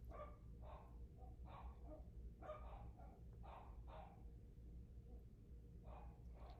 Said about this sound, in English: I don't know why my dogs keep on barking today.